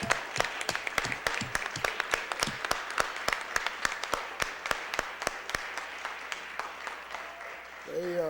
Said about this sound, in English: I think we all stand up and give our whole staff a round of applause